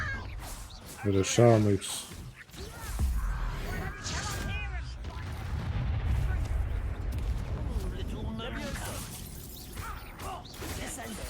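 Confringo fire spell blasts and magical whooshes go off in Hogwarts Legacy combat, with bursts and crackling impacts scattered through the fight. Someone talks over much of it.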